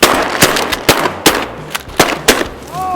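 Shotguns fired by several hunters at flying mallard drakes on public land, with about seven sharp, loud blasts coming in quick, uneven succession over three seconds.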